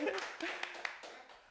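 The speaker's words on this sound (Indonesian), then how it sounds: "Kasih aplaus dulu dong." Studio hosts clap briefly at a sports talk show, a short burst of a few sharp hand claps that are fairly faint and close, fading out within about a second.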